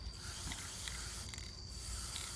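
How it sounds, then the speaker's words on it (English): Passion Peach spray paint hisses steadily from a can onto a jar, a continuous close hiss with faint clicks, no talking. "we are going to spray our jar"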